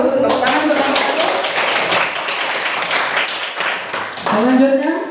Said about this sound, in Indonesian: Ayo, tepuk tangan untuk kelompok